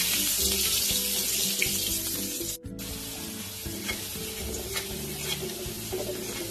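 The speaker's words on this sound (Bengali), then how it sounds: "আলুটা ভেজে নেব" A cut potato fries in hot mustard oil left over from frying crabs, giving a close, continuous crackling sizzle with small pops and scrapes of stirring throughout, briefly interrupted midway.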